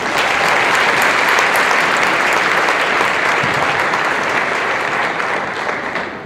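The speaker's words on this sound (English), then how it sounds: "let's give a round of applause to our opening performers, the incredible Garnet Valley Jazz Band, and our outstanding GV dance team" Loud, sustained applause from a large prom showcase audience for the Garnet Valley Jazz Band and GV dance team, dense clapping filling the whole stretch and tapering slightly at the end.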